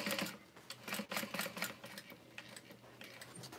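A sewing machine runs in quick bursts while re-sewing a bag, its rapid needle clatter starting and stopping close by with no talking.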